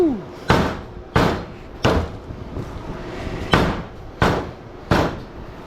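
A hammer strikes repeatedly while a large HID light ballast is scrapped, six loud sharp metallic impacts falling in a steady rhythm about a second apart, each with a short ringing decay.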